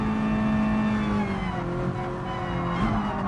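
Simulated Mazda MX-5-based roadster engine in Gran Turismo Sport, a steady droning hum held at near-constant pitch throughout, loud and close with no talk over it.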